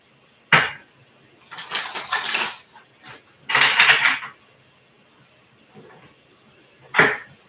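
Tarot cards riffled and shuffled by hand in bursts of crisp papery flutter, a short snap, a longer riffle, then a final tap, with quiet pauses between.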